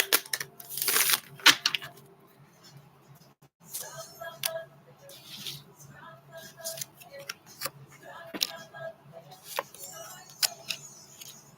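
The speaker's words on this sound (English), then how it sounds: "one more shuffle for Pisces" Tarot cards being shuffled by hand, with crisp riffling bursts and soft slaps and ticks of the deck coming in short irregular clusters close by.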